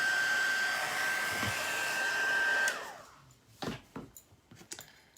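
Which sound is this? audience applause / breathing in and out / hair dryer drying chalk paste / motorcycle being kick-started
hair dryer drying chalk paste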